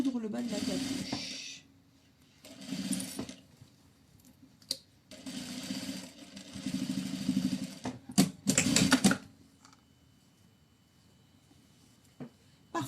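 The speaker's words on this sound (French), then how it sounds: "Coudre le bas de la capuche." A sewing machine stitches the bottom of a hood in several steady whirring runs of a few seconds each, close and fairly loud, separated by pauses with a clunk or two.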